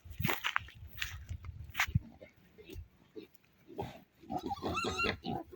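Pigs grunt and snuffle close by in a pen, with a person talking over them and scattered shuffling noises.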